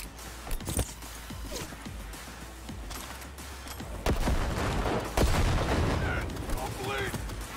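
Gunfire in the video game Cyberpunk 2077, including a sniper firing from above: scattered sharp shots and short bursts ring out at irregular intervals over background noise, with louder cracks toward the end.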